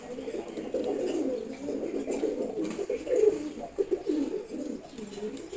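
A pigeon chick coos in soft, repeated murmuring phrases, close and steady, with no voices around it.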